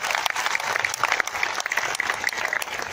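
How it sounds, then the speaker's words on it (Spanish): An audience at an international communication congress applauds speaker Atilio Borón, a dense, continuous burst of clapping from many hands throughout, loud and close. "Un aplauso a este gran compañero, a Tilio Borón"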